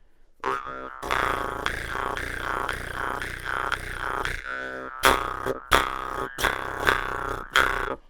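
Jaw harp twanging with a rolled R worked into the playing, a buzzy rhythmic drone with pulsing vowel-like swells for several seconds, then a run of sharp, separated plucked bursts, loud and close.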